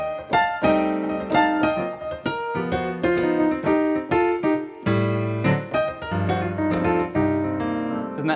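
Solo jazz piano plays a gospel-style connecting run between lounge chords, a lively sequence of rich struck chords and quick melodic notes with varied rhythm, clear and close with no talking.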